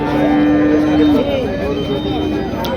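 A Holstein Friesian cow moos once, long and loud, at the Mirshanni cattle market in Cumilla, followed by a busy crowd murmur and livestock noise.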